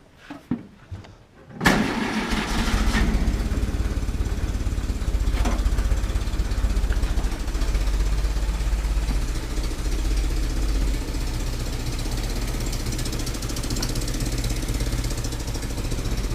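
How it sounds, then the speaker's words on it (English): A Ford GPW jeep engine cranks briefly after a few quiet knocks, catches, and settles into a steady, loud, rough idle that runs on alone. "What I want is this engine able to idle for at least 10-15 minutes."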